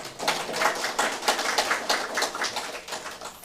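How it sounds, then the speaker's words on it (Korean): Audience at a panel discussion forum clapping to welcome a speaker being introduced, a steady crackle of many hands filling the room at moderate loudness with no talk over it. "한 분 한 분 소개해 드릴 때마다 큰 박수로 환영해 주시기 바랍니다"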